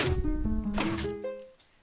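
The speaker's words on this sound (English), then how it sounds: "The door opens and we get the secret sound from Legend of Zelda." The Legend of Zelda secret-discovery jingle plays as a door opens in a Minecraft game, a short chiming run of rising electronic tones that rings out clearly and fades away.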